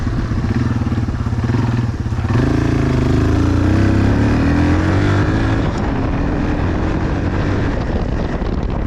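A Yamaha 225XT dirt bike engine runs loud and close after a carburetor cleaning, revving up through the gears with rising pitch shifts and a brief dip at each change, under a blast of wind noise.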